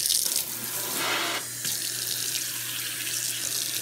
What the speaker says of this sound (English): This one I'm probably gonna have to rinse off with water.